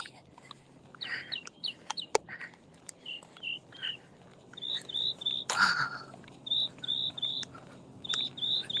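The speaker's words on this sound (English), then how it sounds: "I don't know if you guys can hear it. The birds and everything" Birds chirp in repeated short bursts outdoors during a morning walk, fairly clear against a quiet background with a brief louder rustle midway.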